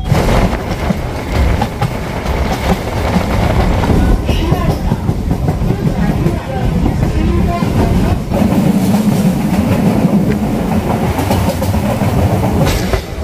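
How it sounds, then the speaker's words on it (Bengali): A passenger train bound for Sealdah runs on the rails, making a loud, close, continuous rumbling clatter with rhythmic clickety-clack through the whole stretch. "এই যে ট্রেন চলে যাচ্ছে শিয়ালদা"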